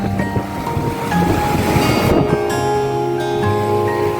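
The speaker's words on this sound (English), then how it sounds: "thundering ocean." Loud, close roar of ocean surf washing in at Dhanushkodi beach, Rameshwaram, a churning rush that swells midway and stays dense without any voices.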